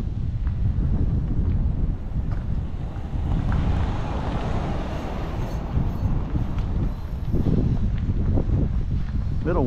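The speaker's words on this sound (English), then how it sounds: "Little windy." Strong wind buffets an outdoor microphone during a walk, a loud continuous rumbling roar with gusty swells throughout, swelling harder near the end, with no voices over it.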